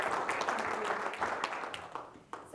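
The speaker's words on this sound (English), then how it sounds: "please give her a big, big applause." An audience claps together at a Rotary club meeting in Las Cruces, with steady, dense applause close by and a few brighter individual claps standing out throughout.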